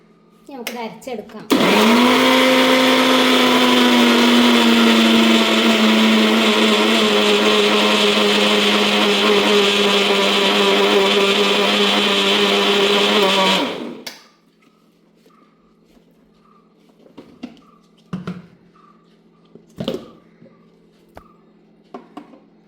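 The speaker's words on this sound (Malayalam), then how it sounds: "ഇനി നമുക്കിത് മിക്സിയിൽ അരച്ചെടുക്കാം." Mixer grinder blending homemade mayonnaise of vinegar, sunflower oil and salt: a loud, steady motor whine for about twelve seconds that cuts off abruptly, followed by quiet clinks and jar handling noises.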